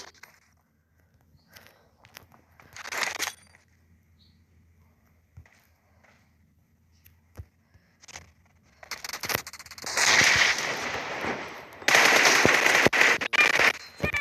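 M4 rifle gunfire in the mobile game PUBG Mobile, with a short burst early on and then loud, sustained automatic volleys through the last few seconds, separated by quieter gaps.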